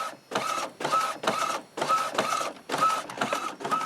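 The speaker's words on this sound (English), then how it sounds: "I'm going to show you what it looks like printing with the lid up." An Epson WF-2650 inkjet printer with its lid up prints a multicolor sheet, the print head sweeping back and forth in a steady rhythm of close, loud whirring passes.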